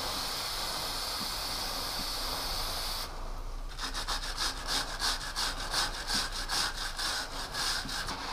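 Stiff brush scrubbing degreaser along a motorcycle chain on a stand with the engine off, a steady hiss giving way after a few seconds to rapid rhythmic scraping strokes, close and alone.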